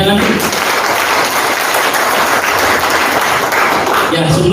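An audience claps at a presentation on eco farming and sustainable agriculture, loud dense applause filling the whole few seconds, heard alone without speech.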